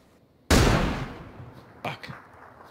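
A single gunshot in a video game: one sudden loud boom with a long rumbling decay, then a couple of fainter thuds about a second later, close.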